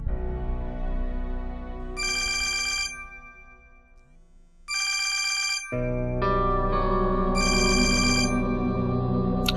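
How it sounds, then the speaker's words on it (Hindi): A phone ringtone plays in loud repeated bursts, a tonal ringing pattern that stops, then resumes for another call, with a brief quieter low hum between rings and no talk. "वो बार बार फोन कर रहा है।"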